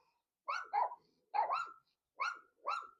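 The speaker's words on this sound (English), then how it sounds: "These dogs are yapping." Small dogs yap in short paired bursts, five sharp barks spaced across a few seconds, fairly distant and otherwise quiet.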